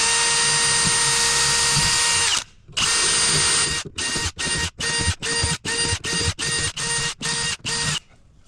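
A power drill with a quarter-inch bit whines loudly and close during a fiberglass pool install, first in one long run, then in a string of short rapid bursts with brief gaps between them.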